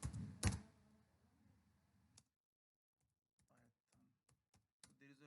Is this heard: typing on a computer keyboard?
yes